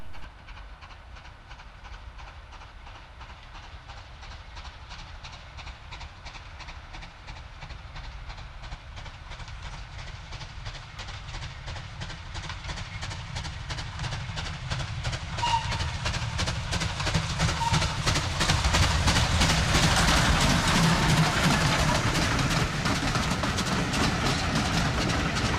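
Super D steam locomotive on the East Lancashire Railway heading north at Little Burrs in autumn, a steady chuffing beat with hiss and rail clatter that grows louder as the train draws closer.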